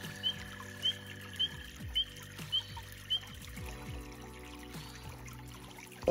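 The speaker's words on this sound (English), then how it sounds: "Just love to hear the ripple of the water and the chirp of the tree frogs." Water ripples, trickles and gurgles gently at a national forest campground while tree frogs give short high chirps at an even pace, then fade into softer dripping sounds.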